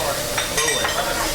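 Seafood sundubu, a spicy Korean soft tofu stew packed with seafood, sizzles steadily in a very hot pot, a faint continuous crackle with a few soft bubbling bursts and no talking.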